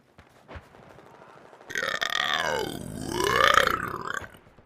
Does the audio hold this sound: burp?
yes